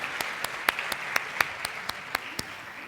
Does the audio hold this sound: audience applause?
yes